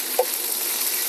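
Okra fries in hot oil with curry leaves for Andhra sambar, a close, even sizzling hiss with one small knock near the start.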